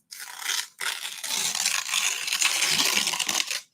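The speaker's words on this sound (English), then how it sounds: "So you can rip really slow" A sheet of paper torn slowly by hand, one long continuous crackling rip with a brief pause near the start, close and fairly loud, no voices.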